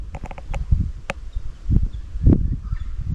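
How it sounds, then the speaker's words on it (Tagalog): Bird calls at a quiet beach rest area at Diamond Beach, New South Wales: a few sharp, brief chirps early on over soft outdoor background, then scattered low thuds and rustles. "Mga huni lang ng ibon yung maririnig mo."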